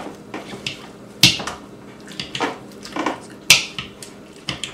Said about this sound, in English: I'm just mashing up my zucchini here